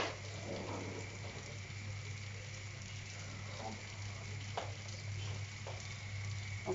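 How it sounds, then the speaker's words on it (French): Cheese melting in a pan, stirred with a spoon: a faint, steady sizzle with a low hum underneath and a few soft scraping strokes, no talking. "Donc là, je vais remuer pour que le fromage il fonde."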